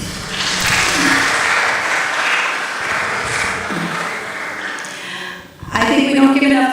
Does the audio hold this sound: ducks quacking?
no